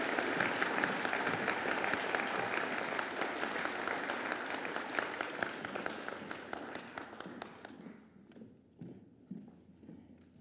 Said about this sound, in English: Huge round of applause for these ladies